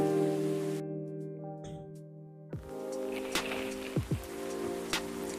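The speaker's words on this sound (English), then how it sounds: "It's raining, raining, it's always raining." Steady rain patters in a broadband hiss in the video game Coffee Talk, with a few louder drips landing close by and a low musical hum underneath.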